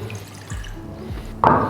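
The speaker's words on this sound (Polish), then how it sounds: "Zaczynam od wody." Water splashes into a cooking pot for oatmeal, with soft trickling and dripping followed by a brighter, louder gush of liquid near the end, heard up close with no talking.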